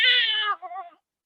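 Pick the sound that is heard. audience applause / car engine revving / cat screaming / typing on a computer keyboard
cat screaming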